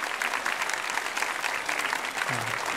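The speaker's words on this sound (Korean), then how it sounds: "박수 한번 해주세요." A church congregation at a Sunday worship service claps together in a thick, continuous wash of applause that stays steady and fairly loud throughout.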